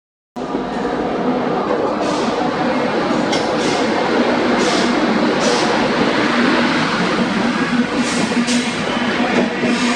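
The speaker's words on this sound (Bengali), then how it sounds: "গাড়ি আসছে আমাদের নেলোর তিন নম্বর প্ল্যাটফর্মে" The New Delhi to Chennai Central Grand Trunk Express pulls into an Indian railway station platform, a loud, continuous rumble and rattle that starts abruptly and holds steady, with faint metallic clinks of wagons rolling past.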